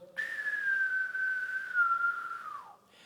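A voice imitates a long, high whistle that holds steady and then slides downward before cutting off.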